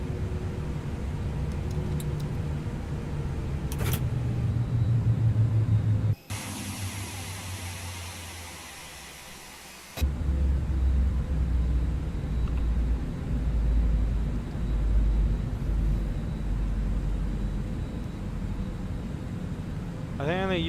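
A Boeing 777 freighter's auxiliary power unit running in X-Plane 12 flight simulation: a steady broadband whine and rushing hum that continues throughout, briefly interrupted by a switch in tone, with a voice talking over it.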